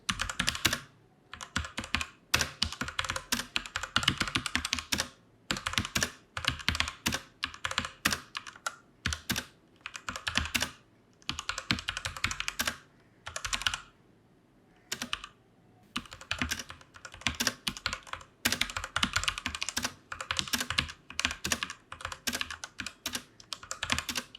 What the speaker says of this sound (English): So let's just do a typing test.